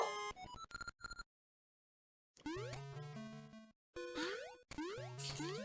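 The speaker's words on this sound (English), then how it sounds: "And that is my phone." A phone ringtone plays in bursts of bright, bouncy electronic tones, with a pause in the middle before the melody returns, fairly loud and with no voices over it.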